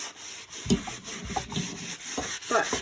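Soft rubbing strokes work over a handmade wooden frame to distress it, a few quiet scrapes at irregular intervals, close and faint with no talk.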